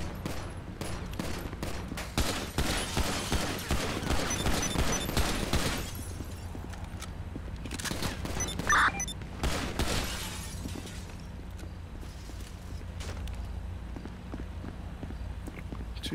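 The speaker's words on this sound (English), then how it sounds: "Someone in the shop's firing too." Police gunfight with several suspects, including a shooter firing from inside a shop: dense bursts of gunfire crackle through the first six seconds, then sporadic shots continue amid steady background noise and faint radio-like chatter.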